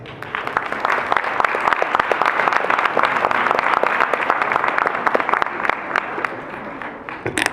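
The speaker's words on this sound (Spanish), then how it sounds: "Brindémosle un fuerte aplauso." A conference audience in Puebla applauds a guest speaker at a talk on social protection and development, with dense, steady clapping that fills the whole stretch at close range.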